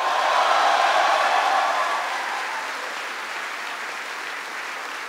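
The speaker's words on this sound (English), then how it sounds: "Give another round of applause to Army Specialist Courtney Newby for the great introduction." Audience applauding at a Veterans Day event in South Korea, a dense wash of clapping from a large crowd that peaks early and then slowly tapers off.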